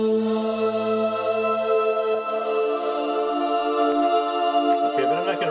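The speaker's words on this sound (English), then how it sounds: "So I'm going to use this sound called Above the Clouds" The "Above the Clouds" synth pad in Logic Pro for iPad plays on its own, with sustained, layered tones that hold steadily and shift slightly near the end.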